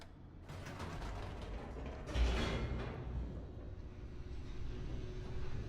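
An elevator in The Stanley Parable descends with a rumbling mechanical hum and creaking gears, a heavier surge partway through, then a sustained grinding drone to the end.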